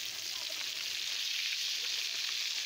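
Fish sizzles in hot oil in a home kitchen pan, a loud, dense and continuous frying crackle close by.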